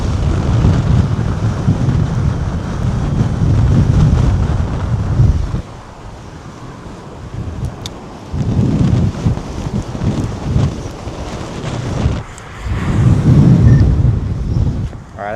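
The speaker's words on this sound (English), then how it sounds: "got 37 mile an hour gust up here." Strong gusts from Tropical Storm Bertha buffet the microphone outdoors in loud, roaring surges that drop off briefly around the middle and return, with no clear speech.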